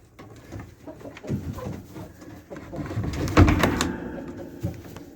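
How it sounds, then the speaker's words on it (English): Hens in a cabin coop make soft clucks and low coos near the nest boxes, mixed with knocks and a heavy thump as a hatch or door is handled. "Good morning, chickens!"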